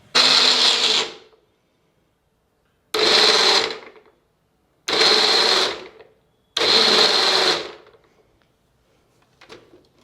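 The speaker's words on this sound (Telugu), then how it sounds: "పోసి మూత పెట్టి నేను మిక్సీ చేసుకుని వస్తాను" A kitchen mixie blender grinds fruit pulp with water and jaggery for sundrop juice in four loud bursts of roughly a second or more each, separated by silent pauses, with a faint click at the end.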